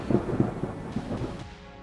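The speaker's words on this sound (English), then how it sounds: "A heart-stopping moment as a massive lightning bolt appeared in the skies over Russia" Deep rumbling thunder rolls from a massive lightning bolt over Russia, loud and close, sustained for nearly two seconds before cutting off abruptly.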